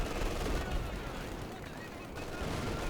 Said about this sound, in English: some MG fire